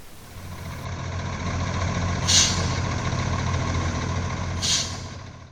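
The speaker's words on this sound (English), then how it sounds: "a World War II era-ish tank recovery vehicle came along" A World War II era tank recovery vehicle rumbles past at a Covenanter tank dig, a steady low heavy-engine drone with two sharp hissing bursts, like air brakes, partway through.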